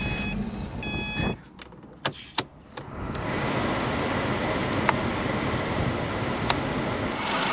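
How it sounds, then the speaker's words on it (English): Car with its AC blowing hot air, started and left idling with the blower motor on its highest setting, AC on and air recirculating: brief chime beeps and a few sharp clicks, then a loud, steady broadband whoosh of fan airflow, no talking. "So now we're going to start the vehicle, place the blower motor on its highest setting, turn on the AC and the recirculation air."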